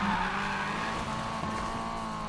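A Nissan S15 Silvia drifting in Need for Speed Payback, with a continuous engine drone and sustained tire squeal as the car slides along winding roads, loud and close throughout.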